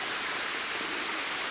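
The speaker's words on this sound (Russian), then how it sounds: "Там еще водопадик" Small waterfall in a mountain gorge river blocked by fallen trees, a steady broadband rushing hiss of falling water, even and unbroken throughout.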